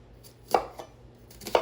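Two crisp chops of a large knife through an onion on a cutting board, about a second apart, close and clear with no talking.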